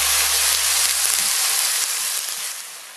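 Spice paste for a mushroom curry hits a hot frying pan with a loud, close hiss, holding steady for a few seconds before tapering off slightly.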